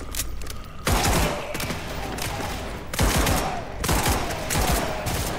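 Shotgun blasts in the SCP 5K video game during a zombie wave defense, several heavy booming shots spaced about a second apart over dense background gunfire and mechanical clatter, loud and close.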